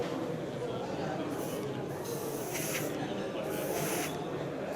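Faint hissing bursts of paint from an airbrush come in short on-off puffs, a few in a row, under a soft steady background noise.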